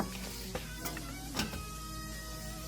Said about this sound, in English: And then just give it a quick little stir.